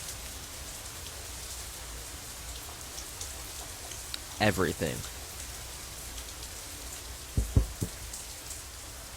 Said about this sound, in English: I like rainy weather too. It's nice every once in a while. I wonder what is it about the rain.